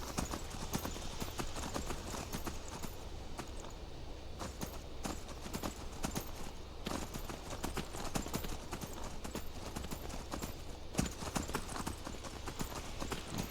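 Horses' hooves clip-clopping steadily during a ride in the video game Skyrim, a continuous quiet rhythmic patter of several hoofbeats, faint and fairly close without talking.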